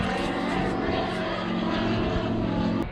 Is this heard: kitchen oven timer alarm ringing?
no